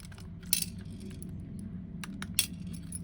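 Small metal screws come out of a Scalextric slot car chassis, with two sharp clinks of metal on a hard surface over quiet background rustle.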